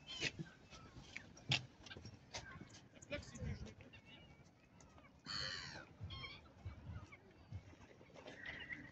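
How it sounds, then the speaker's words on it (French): Gulls calling around a lake in Viry-Châtillon, harsh cries repeating at middling distance over outdoor ambience, with people talking nearby. "les mouettes, elles sont posées dessus là-bas"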